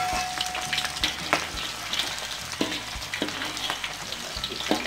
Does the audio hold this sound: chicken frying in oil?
yes